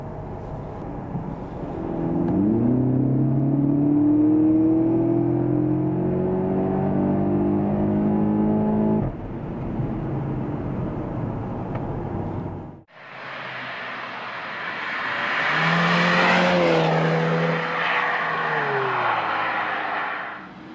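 A 2014 Audi TT quattro engine revs and accelerates with rising harmonic tones, heard first from inside the cabin, then louder and brighter in a second run, with no talking.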